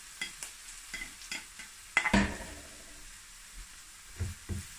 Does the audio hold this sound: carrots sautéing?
yes